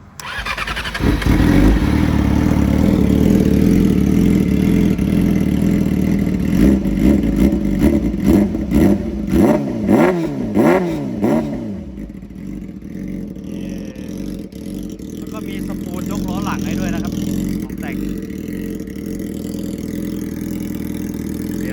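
A 2019 Yamaha R6 sport motorcycle starts up loud and close and is blipped through several sharp revs, then settles into a steady, quieter idle.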